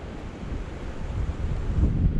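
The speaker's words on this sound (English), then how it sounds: "We've just set off on the river, and about 20 meters away the first rapids are coming up." Rushing river water broadening into a steady roar as the first rapids approach on a river trip in Honduras, a continuous wash of noise that swells slightly toward the end with no talking.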